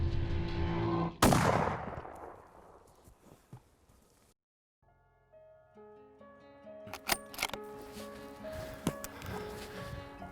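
Rifle shot while hunting big game in Alberta, a single loud sharp crack early on with a decaying tail, followed by quiet outdoor sounds and later scattered clicks and rustling.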